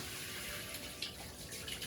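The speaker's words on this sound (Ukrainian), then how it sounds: "і ми лімо водичку" Water poured and running steadily during a dog's bath, a continuous close splashing wash with small irregular splashes, fairly quiet.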